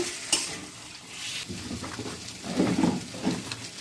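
Chopped tomato, onion, slit green chilli and potato with turmeric, salt and mustard oil being mixed together for fish steamed in banana leaf, giving soft, moist squelching and faint scraping at close range, with no talking.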